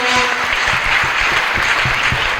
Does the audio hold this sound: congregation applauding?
yes